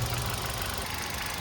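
A 2016 Hyundai Grand i10 petrol engine idles steadily under an open bonnet, a smooth even hum with a faint low rumble and no voices.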